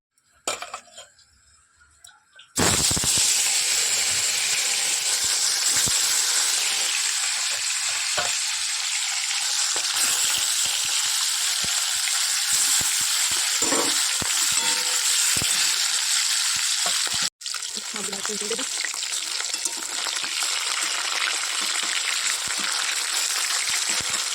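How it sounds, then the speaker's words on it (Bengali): Potatoes fry in hot oil with black cumin seeds, a loud, steady sizzle that starts abruptly after a brief quieter moment and continues without pause, broken once by a short gap. "কালো জিরা ফোড়ন দিয়ে আলুটাকে ভেজে নিয়েছি"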